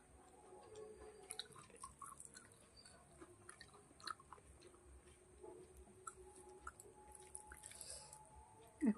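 Someone eats a cooked cabbage dish, with quiet, close chewing, soft wet squishes and occasional faint clicks coming at an irregular pace over a hushed background.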